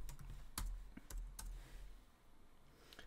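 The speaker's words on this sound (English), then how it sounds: "And then you type the text you want to ingest." Keys on a computer keyboard are typed in short, scattered bursts as text is entered into a chat prompt, the clicks quiet and close with no one speaking.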